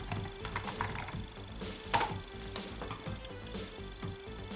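Rapid, close key clatter from typing on the keyboard of a homemade DIY lapdock, irregular clicks in quick bursts with one sharper tap midway, heard alone without speech.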